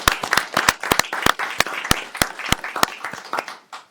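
A small audience at a city mayor and council meeting claps for employee recognition award winners: a sparse, uneven patter of distinct hand claps, fairly close, fading out after a few seconds.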